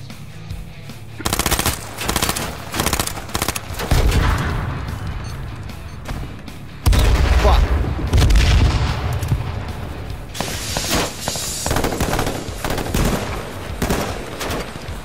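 Automatic gunfire and explosions ring out in the military shooter game Squad: loud, dense volleys of rapid shots with heavy booms, the biggest blast landing about midway, then more sustained firing.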